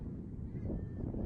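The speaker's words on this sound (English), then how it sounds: "It is indeed windy." Low, rumbling wind buffets the microphone in a steady, muffled roar at an outdoor high school girls' soccer game, with no voices present.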